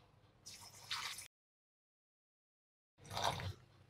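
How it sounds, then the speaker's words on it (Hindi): Water poured into a pot holding 50 grams of dry giloy stems, heard as two short splashing, trickling bursts separated by a silent gap, fairly close, with no talking. "ढाई सौ एम पानी डाल दी हूँ"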